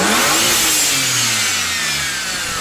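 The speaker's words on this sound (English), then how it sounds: "I did the blow-off valve instead of recirculation valve because I love turbo sounds." A BMW N54 twin-turbo engine in an E9x with a blow-off valve revs hard and loud and close, the note rising and then falling away as turbo hiss carries through the upper range.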